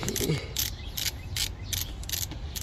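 Ratchet wrench with a short socket turning on the battery ground cable bolt of a Ford truck, giving a steady series of bright, close clicking bursts in a quick repeating rhythm.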